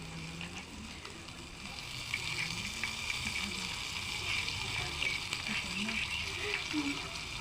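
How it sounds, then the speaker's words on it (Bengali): Spice masala with ground tomato paste cooking in a pan gives a soft, continuous sizzle and bubbling that holds evenly, with faint low sounds underneath. "আমি মশলাটা কষিয়ে নিব"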